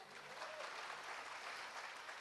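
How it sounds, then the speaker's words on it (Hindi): An audience at a poetry gathering gives quiet, steady applause, a soft wash of many hands clapping at a distance for a couple of seconds. "ताली बजाए इस पर।"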